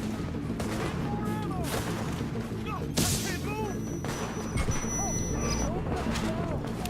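In The Division, set in an infected New York, a grenade blast cracks out sharply amid a steady roar of gunfire and battle noise.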